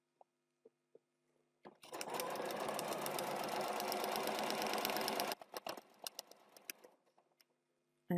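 A sewing machine stitching fabric for a quilt block, a steady close whirring hum of rapid stitches lasting a few seconds, followed by several slower individual clicks and ticks.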